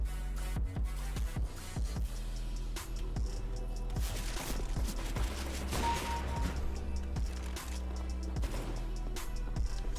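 Rapid bursts of Counter-Strike: Global Offensive gunfire crack repeatedly over a steady background hum, shots coming in quick irregular clusters throughout.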